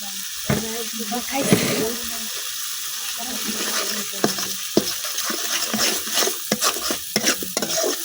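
Spice paste with ground cumin stir-fried in a pan, a low sizzle under repeated scraping strokes of a spoon, with a few sharp knocks against the pan and brief bits of voice.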